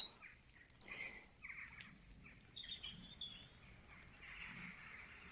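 Faint crow calls scattered across a quiet forest background, several short harsh cries at varying distances with steady ambient hiss.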